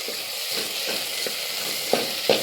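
Chopped tomato stirred into a pan of frying shrimp: a steady, moderate sizzle with regular soft scrapes from stirring and two sharper clicks of the utensil near the end.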